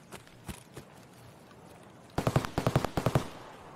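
Sniper fire from scav enemies in the video game Escape from Tarkov: a few distant single cracks, then a rapid string of about a dozen sharp shots in quick rhythm, moderately loud.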